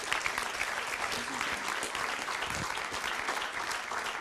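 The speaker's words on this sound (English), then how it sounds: "Let's give them an applause." An audience gives steady, dense applause for three finalists at an Access City Award ceremony, the clapping even and sustained throughout.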